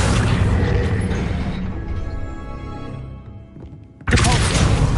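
A spell effect in Hogwarts Legacy plays as a dense whooshing rumble that fades over a few seconds into a brief lull, then a loud burst of magical energy cuts in abruptly.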